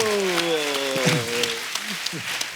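Studio audience applause on a comedy talk show, a broad wash of clapping under a prominent voice, with sustained tonal music or speech harmonics over the first half before the applause thins.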